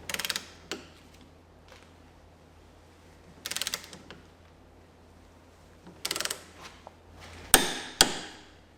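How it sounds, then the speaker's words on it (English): Ratcheting clicks of a torque wrench tightening the nut on a suspension bolt during an Audi Q7 / VW Touareg / Porsche Cayenne wheel bearing job, coming in several short bursts with a few sharp metallic knocks near the end, close up and with no talk. "You want to put the torque wrench onto the nut end rather than the bolt end."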